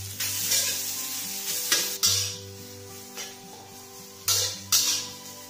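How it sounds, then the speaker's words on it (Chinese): Pickled Chinese cabbage is stir-fried in a dry wok with no oil, giving a steady sizzle and hiss broken by several sharp scrapes and clanks of a metal spatula against the pan, close and with no talking. "接下来我们把酸菜的水分给炒干"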